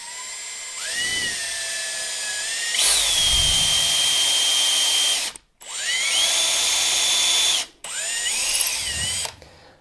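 A small 2.5 mm drill bit bores into a door leaf in three bursts, each whining up to speed and grinding steadily before cutting off, close and loud.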